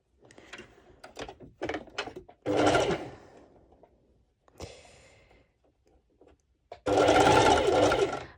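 Sewing machine running a straight stitch across a non-stretchy piece of fabric, two loud sustained whirring bursts separated by short quiet pauses and light handling clicks.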